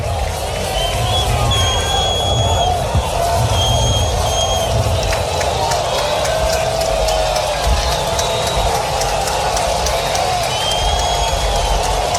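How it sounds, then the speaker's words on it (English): A baseball stadium crowd at a Twins game roars and cheers steadily, a dense wash of voices sustained throughout, with a broadcaster talking over it. "Crowd come to life."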